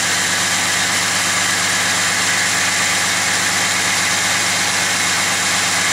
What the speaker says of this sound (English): I hope you can hear me over this engine